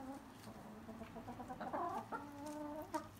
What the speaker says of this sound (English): this is the annoying thing about having chickens.